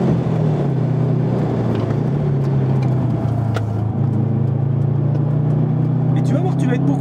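A Subaru Impreza on a race circuit holds a steady engine note that slowly climbs in pitch as it accelerates, with the sound fairly close and continuous and other noises underneath.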